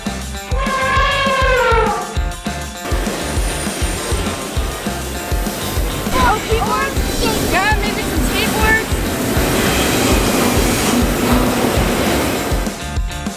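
A very long freight train of 180 double-stack cars rolls past with a steady loud rumble and clatter, a horn blast near the start, and voices of boys watching talking over it.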